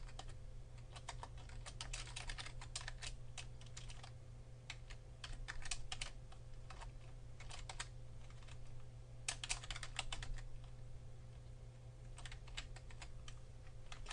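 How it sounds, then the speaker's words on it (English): Steady, rapid clacking of HTML being typed on a computer keyboard, continuous bursts of keystrokes over a low constant hum, close and moderately loud, with no talking. "you typed up your web page just like we're doing right here"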